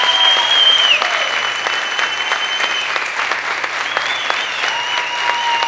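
Steady audience clapping at a stand-up comedy show, sustained and fairly loud for several seconds, with faint voices in the room.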